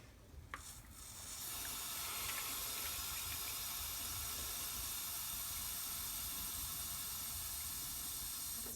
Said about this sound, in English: fill this up with 325 ml of lukewarm water